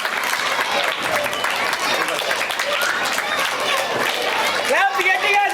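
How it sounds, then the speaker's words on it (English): A crowd of audience members claps continuously at a school annual event, English high school 2023-2024, with dense, fairly loud applause throughout and voices chattering underneath. "Clap clap clap clap."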